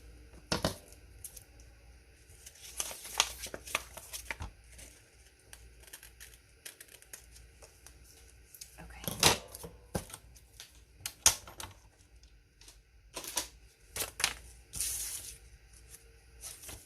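Paper trimmed while making a handmade junk journal craft project, with scattered crisp clicks, snips and rustles at uneven intervals, some louder bursts among soft handling noise, close and without talk.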